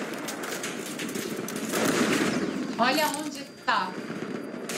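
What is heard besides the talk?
gunshots in a video game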